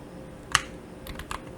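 Keys on a computer keyboard are struck: one sharp, close press followed by a quick run of three lighter taps, quiet room otherwise.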